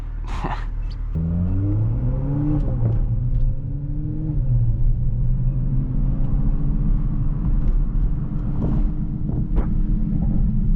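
A 500-horsepower Toyota Supra cruising on the road, its engine rumbling close and continuous, with rising and falling pitch as it accelerates and shifts, accompanied by wind buffeting across the microphone.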